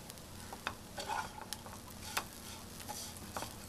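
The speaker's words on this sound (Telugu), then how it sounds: "ఇంకోసారి తిప్పుకుందాం" Garlic chicken noodles stirred and frying in a pan, with soft sizzling under a few sharp scrapes and clicks of the spatula scattered through, fairly quiet and close.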